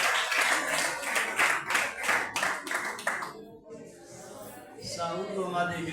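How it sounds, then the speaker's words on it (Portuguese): A church congregation at a ministerial meeting claps rhythmically for about three seconds, then the clapping stops and someone speaks over a quieter room, with the room sound rising again near the end. "Vamos receber o homem de Deus com as palmas bem alegres para o reino de Jesus."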